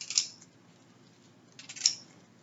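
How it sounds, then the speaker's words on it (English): Scissors snip through fresh-cut flower stems in two crisp, close cuts spaced about a second and a half apart, with quiet pauses between them. "And you'll notice I'm actually cutting them again"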